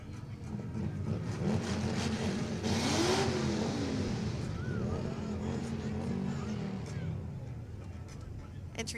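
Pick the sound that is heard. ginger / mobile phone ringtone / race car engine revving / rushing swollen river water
race car engine revving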